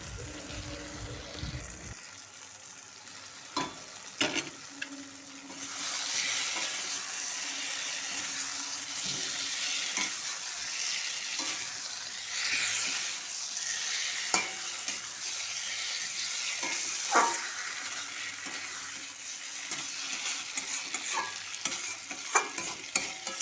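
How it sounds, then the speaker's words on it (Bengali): Spice masala with fried potatoes and a splash of water is stir-fried at length, a constant hissing sizzle broken by repeated scrapes and knocks of the spatula against the pan, fairly quiet and steady with no speech. "এখানে আমি আরও একটু সামান্য জল দিয়ে আবারও খুব ভালোভাবে কষিয়ে নিচ্ছিলাম"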